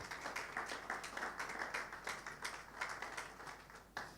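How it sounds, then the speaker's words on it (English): Audience clapping for sponsors at a national ICT technology forum, a faint, distant round of applause with an uneven rhythm of claps, heard alone. "Please let's give these sponsors a huge round of applause."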